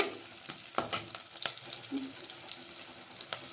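Ingredients sautéing in a pan for a cauliflower curry, a low continuous sizzle broken by frequent spatula scrapes and taps against the pan, close and moderately quiet.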